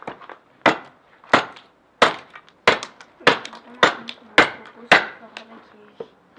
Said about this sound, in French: La hache, par exemple, on l'utilise toujours comme ça, et c'est l'autre main qui va nous donner l'inclinaison et l'endroit où on va frapper